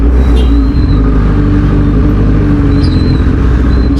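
Dense, loud road traffic rumble heard from a Suzuki GXS S1000 motorcycle ride in stormy weather, a constant low engine and vehicle drone with faint higher whines, no talk.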